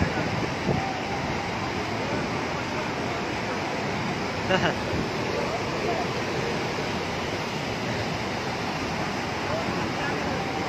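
A loud, constant roar of heavy water rushing from a dam fills the scene without letup, broad and steady like a powerful outflow.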